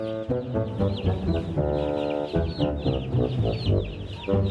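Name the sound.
hens clucking in a hen coop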